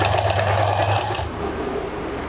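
A sewing machine stitching lace onto a dupatta runs with a fast, close mechanical whir for about a second, then slows and stops, leaving a softer hum.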